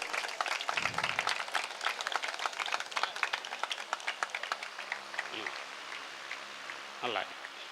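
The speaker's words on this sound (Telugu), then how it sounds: "వారు వస్తుండగా చప్పట్లు కొడదాము." Audience applause at a Dr B.R. Ambedkar statue unveiling ceremony in Srikakulam, a dense patter of many clapping hands filling the space, loud at first and thinning out toward the end, with a voice briefly heard over it.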